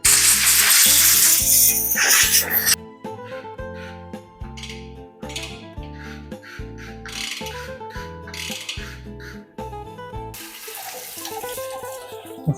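Water sprays onto a bicycle during washing, kept light around the wheel hub; a steady close hiss opens and closes the stretch, with quieter splashing in between over a tonal musical backing.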